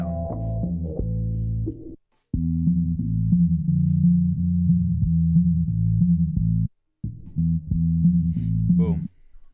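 A bass sample through a low-pass filter cranked down: a low, buzzy tone plays in held, muffled notes with brief gaps, its dull tone cut off above the low range.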